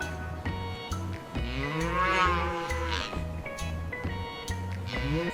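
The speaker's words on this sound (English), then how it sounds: "Cow." A cow moos repeatedly in a pasture, long drawn-out calls with a rising, wavering pitch, loud and close, over a steady rhythmic background tune.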